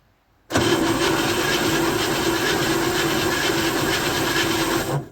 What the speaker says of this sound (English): She's cranking.